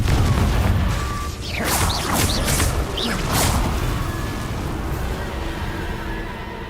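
Fiery Confringo spell blasts in the wizarding game Hogwarts Legacy, a run of bursting whooshes and rumbling booms over a steady low roar, several crackling impacts in quick succession before fading into ambient rumble.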